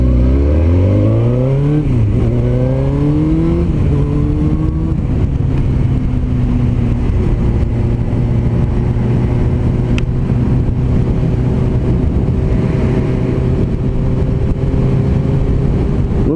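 A Suzuki GSX-R 1000 motorcycle roars loudly up through the gears, its engine pitch climbing and dropping with several quick shifts before settling into a strong, steady high-speed drone.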